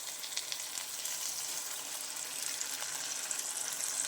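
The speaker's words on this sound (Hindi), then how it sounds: "अब इसमें 1 कप पानी का डाल देंगे" Water poured into a pan of sizzling egg curry with besan, giving a steady hiss and bubbling that fills the short stretch with no talking.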